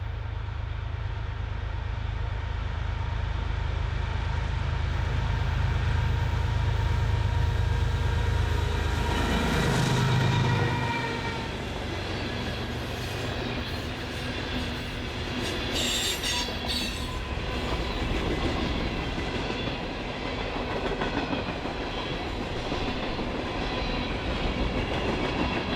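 A Canadian National iron ore freight train hauled by a single locomotive, number 2898, running radiator first, rolls past with a steady roaring rumble, rail clatter and squealing wheels that fade somewhat as the cars keep passing.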